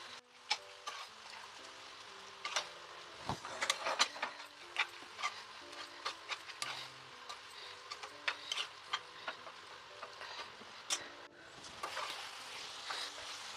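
Grated coconut and ginger-garlic paste fry in a pan for a cucumber mutton curry, a steady soft sizzle broken by frequent sharp clicks and scrapes of stirring, close and fairly quiet with no talking.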